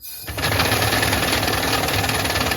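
Model steam engine running on compressed air starts up and settles into a fast, steady mechanical chuffing and clatter, close and continuous.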